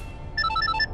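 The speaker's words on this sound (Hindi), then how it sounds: "मेहर का वीडियो कॉल" A phone ringtone for an incoming video call plays a quick repeating melody of bright electronic tones, clear and fairly close, over a low background hum.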